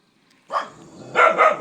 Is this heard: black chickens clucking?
no